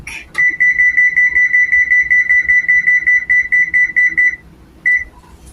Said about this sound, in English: we're gonna preheat the oven to 450